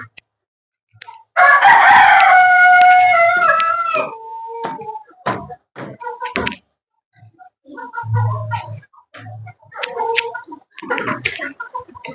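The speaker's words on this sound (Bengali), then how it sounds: "কিছু মুরগিগুলো নিচেই আছে" Sonali chickens on a poultry farm: a loud, drawn-out rooster crow opens, followed by scattered clucks and short calls from the flock, with a couple of low thumps in between.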